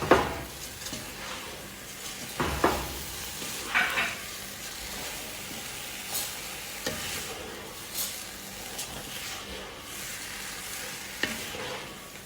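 Washed Egyptian rice stirred in a hot frying pot, giving a steady soft sizzle under repeated scraping and clinking stirs of a utensil against the pot, close and fairly quiet throughout.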